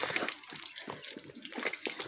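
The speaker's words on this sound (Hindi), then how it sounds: "आप ऐसे ही ठंडे पानी में हाथ धो रहे हो" Cold tap water runs and splashes over hands being washed at a school sink on a winter day, a steady close gush with uneven sloshing bursts and no talk.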